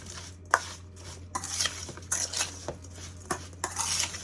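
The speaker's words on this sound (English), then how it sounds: "I'm just gonna mix the sugar with the blueberries like this." Sugar being stirred into fresh blueberries in a bowl with a utensil, giving repeated close scraping and clinking strokes in an uneven rhythm, with no talking.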